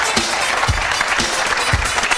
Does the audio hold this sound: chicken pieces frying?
no